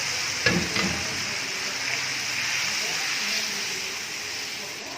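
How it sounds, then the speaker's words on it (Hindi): Onion tempering (tadka) for Punjabi kadhi pakoda hits the kadhi with a faint crackling pop, then settles into a soft, even hiss that carries on steadily. "तो तड़के को हम कड़ी में ऐड कर लेंगे।"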